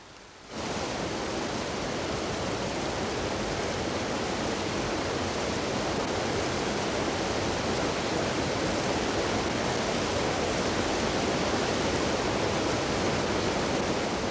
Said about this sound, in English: In the autumnal surge of water rushing through the rivers